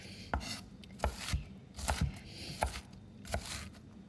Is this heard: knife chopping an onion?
yes